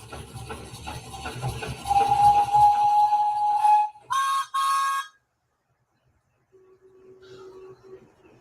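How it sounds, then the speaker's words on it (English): A thin, steady whistle tone plays during a live stream, at first over a rough noisy background and voices, then briefly louder, then faint and alone after a short silence. "I can hear like a whistle."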